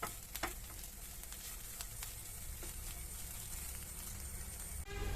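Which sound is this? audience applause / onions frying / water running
onions frying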